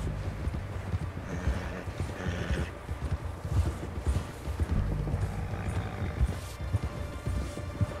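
Horse hooves clip-clop in a steady galloping rhythm close by in the video game Red Dead Redemption 2, with a faint bit of background noise and no talking.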